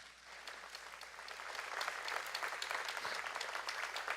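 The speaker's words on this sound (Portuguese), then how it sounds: "Jesus merece uma grande salva de palmas" A church congregation applauds, the clapping faint at first and then swelling into a steady, moderately distant round that holds to the end.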